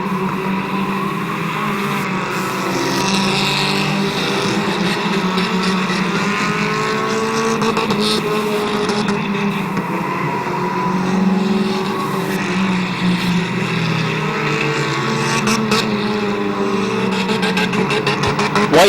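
Race cars circle the oval at Midvale Speedway in 2013, their engines a loud, continuous roar that rises and falls as the pack passes close by.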